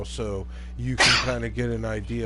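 One sharp, breathy sneeze bursts out in the middle of a man's ongoing speech during a live PS4 gaming broadcast, loud and brief between his words.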